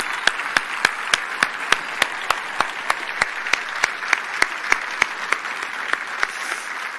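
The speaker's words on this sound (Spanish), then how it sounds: "Un aplaudiment per Àngels Gregori." Rhythmic clapping in unison from the audience at a poetry festival, honouring poet Àngels Gregori: steady, evenly spaced sharp claps over a soft crowd background.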